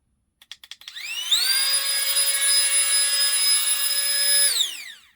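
A BOLNGLA rechargeable mini pump in blowing mode. A few quick clicks come first, then its motor spins up into a loud, steady high whine that holds for several seconds before winding down.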